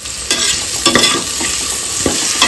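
Curry leaves fry in hot oil inside a pressure cooker for tomato rice, giving a steady loud sizzle punctuated by several sharp scraping stir strokes from a spoon.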